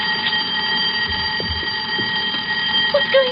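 A household burglar alarm rings continuously with steady high-pitched electronic tones, loud and near, with faint thumps and movement in the room beneath it.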